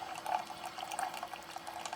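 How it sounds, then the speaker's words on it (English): Keurig K-Mini Plus coffee maker brewing out water during descaling, a steady close gurgling and trickling stream with small bubbling bursts, alone without talking. "Now it's going to finish brewing that water."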